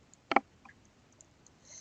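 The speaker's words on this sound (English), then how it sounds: "You have to hit the search button." One sharp mouse click on a search button, quiet and close, with a couple of faint ticks after it in an otherwise silent room.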